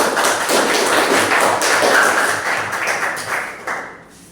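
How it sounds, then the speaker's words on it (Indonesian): A classroom audience applauding after a group presentation, a dense steady patter of clapping hands that holds for several seconds and then thins out and fades near the end. "berikan aplaus"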